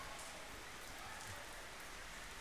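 Steady rain falls in an even, hissing wash that stays constant throughout, faint and without voices.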